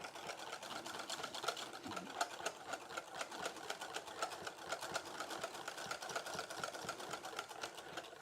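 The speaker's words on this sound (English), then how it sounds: "watching a guy whisk some cream" Cream whisked by hand for a trifle makes a faint, rapid, steady rhythm of light clicking and tapping that continues without a break.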